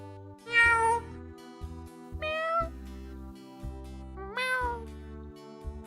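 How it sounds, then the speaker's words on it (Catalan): A cat meows three times in drawn-out, wavering cries, loud and close, with a low steady hum underneath. "es van començar a sentir molts miols de gat."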